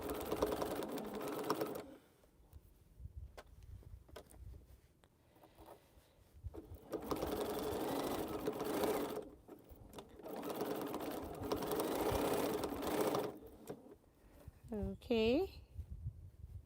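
A sewing machine stitches quilt rows together in long steady runs of close, rapid mechanical whirring, pausing briefly between passes, with a faint bird call near the end.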